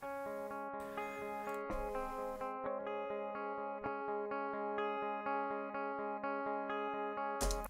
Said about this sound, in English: here's just all the crazy guitar parts.